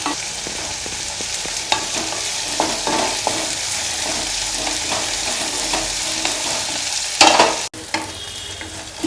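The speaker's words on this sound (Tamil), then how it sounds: "பாருங்கள், இப்போ நல்லா வணங்கிக்கிட்டு இருக்குது" Pirandai (adamant creeper) sautés in a pan with a continuous sizzle, stirred with a utensil that scrapes and clinks at intervals, including a sharp louder knock near the end.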